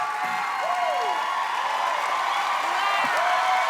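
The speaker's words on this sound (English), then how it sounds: "They're still cheering." A studio crowd on America's Got Talent cheers and applauds continuously, a dense wash of clapping with whoops and shouts rising over it, and voices talking briefly underneath.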